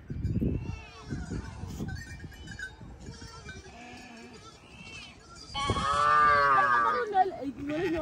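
A calf in a Karamojong cattle kraal in Uganda moos once loudly near the end, after low rumbling and scattered voices and animal sounds at the start.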